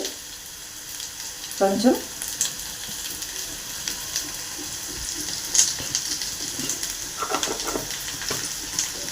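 Turmeric added to poha frying with curry leaves and onions, then stirred, a low steady sizzle with scattered spoon scrapes and brief clinks, and a short spoken word early on.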